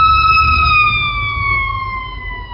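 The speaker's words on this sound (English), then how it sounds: "And here comes the fire truck." A fire truck siren wails loud and close, a sustained tone slowly falling in pitch as it passes, over low traffic rumble with no talking.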